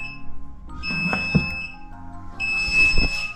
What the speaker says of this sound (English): It's not the thermostat, that's a bad boy alarm.